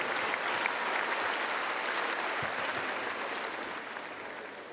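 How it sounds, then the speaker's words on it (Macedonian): A large audience applauds performers at the Zlatna Bubamara 2022 music show, a dense, sustained wash of clapping that holds steady for several seconds before slowly easing off. "ги ви поздравиме со аплауз"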